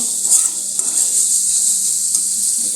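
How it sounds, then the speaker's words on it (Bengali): Spices sauté in a pan for a cauliflower curry, a bright continuous sizzle with faint stirring scrapes over a short stretch, no voices. "মশলা কষাচ্ছি"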